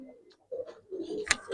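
Pakistani high flyer pigeons, Giribaz coloring silver birds, including parents with their chicks, make soft throaty cooing in short low bursts with brief pauses. The birds are nearby and moderately loud, and no one speaks.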